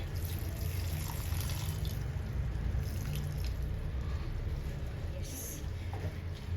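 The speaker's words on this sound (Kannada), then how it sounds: "ಇದು ನನ್ನ ಹತ್ರ ಬೇಯಿಸಿರೋಂಥ ನೀರು ಇನ್ನೂ ಇದೆ ಸೊ ನಿನ್ನ ನಾನು ಇನ್ನೊಂಚೂರು ಸೇರಿಸ್ಕೊಳ್ತಾ ಇದ್ದೀನಿ" Leftover chickpea cooking water is poured into a simmering kabul kadle gojju gravy, a soft continuous trickle and splash heard faintly and close throughout.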